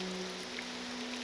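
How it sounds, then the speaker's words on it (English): Steady rain hiss in the video game The Elder Scrolls III: Morrowind, a soft, even wash of drops with a faint low hum running underneath. "Raining again. Surprise, surprise. It rains a lot here."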